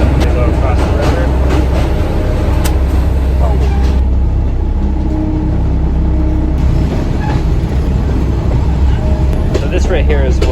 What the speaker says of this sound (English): this is definitely Bangkok's cheapest train